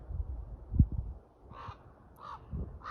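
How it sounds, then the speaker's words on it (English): A crow caws three times in the distance in a hydro-corridor green space in Scarborough, Ontario, short harsh calls spaced about a second apart over quiet background with a low thump early on. "Is that a crow that I just heard?"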